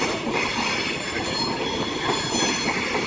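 Train running through Carlisle with wheels squealing over a continuous loud rumble of carriages passing close by, sustained throughout without talk.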